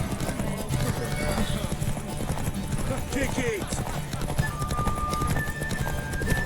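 Horse hooves clip-clop at a steady gallop during a race in The Witcher 3 video game, with a whinny heard once. Voices shout over the hoofbeats throughout.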